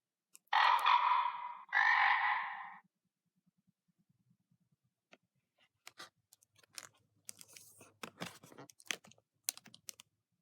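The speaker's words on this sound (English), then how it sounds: "While a frog sits croaking on a lily pad." Two loud, rasping frog croaks up close in a quiet garden, each lasting about a second, followed by faint scattered clicks and rustles.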